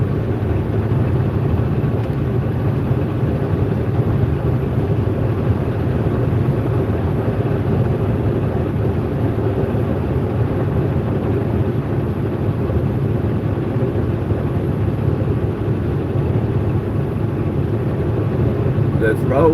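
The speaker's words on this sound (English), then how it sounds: "There's a big gust of wind." Strong wind buffets a microphone inside a moving truck, a loud, continuous roaring rush over engine and road rumble, with talk underneath.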